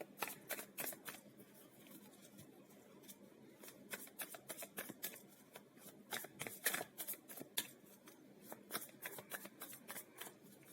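Tarot cards are shuffled by hand in a long run of quick riffling flicks and slaps, fairly close and quiet, with no talk.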